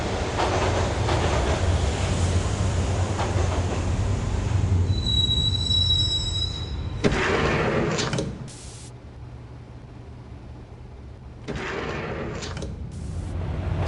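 A train ride in the video game Max Payne: a steady rumbling roar of rail cars with squealing wheels. The noise drops away briefly near the end, then the rolling rumble returns.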